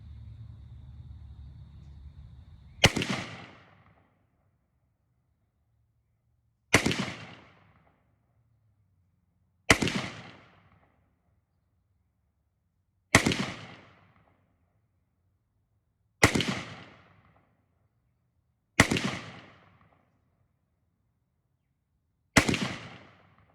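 Seven sharp, loud rifle shots at steady intervals of about three seconds, each with a short decaying tail, fired from a Springfield St. Victor or a Smith & Wesson M&P 15 with a heavy mil-spec trigger, with a low rumble before the first shot.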